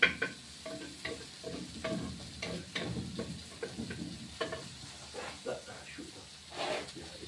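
Food sautéing in a pan for a Turkish white bean stew, with steady sizzling broken by scraping stirs, up close and moderately loud, while a voice talks over parts of it.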